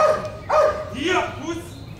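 A protection sport dog gives several loud, close barks and yelps in quick succession during a guarding phase with a helper, pitch sliding on each, with some background commotion.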